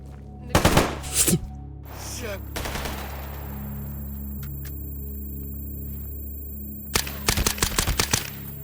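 Gunfire in the STALKER GAMMA video game, with two short bursts of automatic shots, a scattered volley, then a longer rapid burst near the end, all over a steady low ambient hum.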